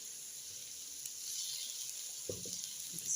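Ginger added to garlic already frying in a pan for pilau, giving a faint, steady hiss that runs throughout with a few soft stirring knocks near the end.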